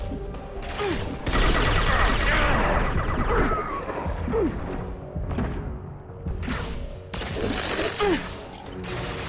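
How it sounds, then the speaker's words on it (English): Heavy weapon fire in the Mass Effect 2 video game: several sharp high-impact shots with metallic mechanical clanks, whooshes and crashing debris, loud and close with no talking. "Firing a high-impact shot."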